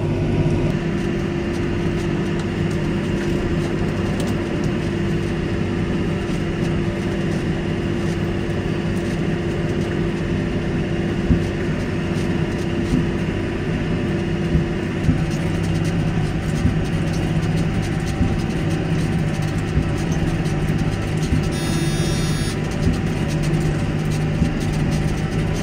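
A tractor pulling a baler drives steadily along a swath of straw on a farm, a loud, continuous low engine drone with mechanical rattling throughout.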